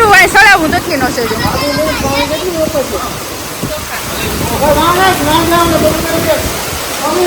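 Heavy floodwater rushes during a downpour in Gujarat, a loud broad roar that continues throughout while several people talk over it nearby.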